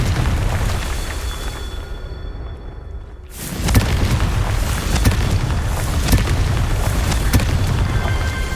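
A Confringo spell detonates in the Hogwarts Legacy video game: a sudden loud boom after a near-silent pause, followed by a sustained rumbling, crackling roar with scattered sharp pops.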